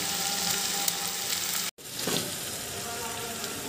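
Tomato pieces hitting hot oil and frying chicken masala produce a loud, dense sizzle that briefly cuts out and then resumes, with a faint stir partway through and no speech.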